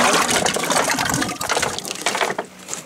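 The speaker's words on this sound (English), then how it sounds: "we transfer it into a smaller bucket and add a little bit more water." Water gushes and splashes as it is poured from one container into a smaller bucket, a close, loud, continuous rushing pour that tapers off toward the end.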